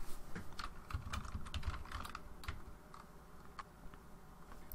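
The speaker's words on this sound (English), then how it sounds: "Typing in" Typing on a computer keyboard produces a quick, uneven run of close, crisp key clicks, densest at first and then thinning out, with no voices.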